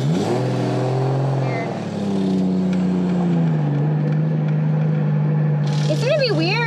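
Adams Chaser car engine pulling in second gear on the throttle, a steady loud drone rising and falling in pitch, with people talking over it and a brief higher whine near the end.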